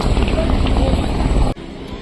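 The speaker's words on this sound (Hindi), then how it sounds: "देखिए हेलीकॉप्टर ये जा रहा है इतने पास से।" A helicopter passes close overhead at Kedarnath with a loud, churning rotor roar and engine whine, and a person talks over it before the sound cuts off abruptly.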